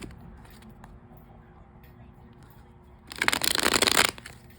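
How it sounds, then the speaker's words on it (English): Tarot cards are riffle-shuffled in a loud, fast burst of about a second near the end, after quiet handling and faint background noise. "And I did shuffle these pretty good"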